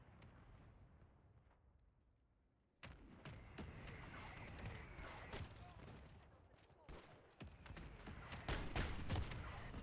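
A friendly mortar strike in the video game Call of Duty lands as a barrage of sharp blasts and gunfire-like cracks, starting abruptly and continuing as a dense, rumbling volley at a moderate distance.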